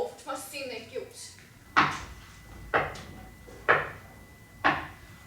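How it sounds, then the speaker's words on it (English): A voice speaks briefly at the start of a live stage performance of Macbeth, then four loud, evenly spaced wooden knocks sound, each hit sharp and distinct with a short ring after it. "Whence is that knocking?"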